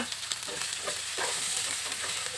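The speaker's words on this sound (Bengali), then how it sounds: "তো গাজর দেওয়ার পরে একটু কিছুক্ষণ নেড়ে ছেড়ে" Carrots sizzle and scrape as they are stir-fried with ginger and garlic in a hot pan for a mixed vegetable dish, a continuous loud fry with intermittent stirring strokes.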